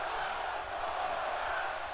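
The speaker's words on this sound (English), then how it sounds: "A crowd calling for another superplex off the ladder" A wrestling crowd in an arena chants for another superplex off the ladder, a dense, continuous roar of many voices that holds steady throughout.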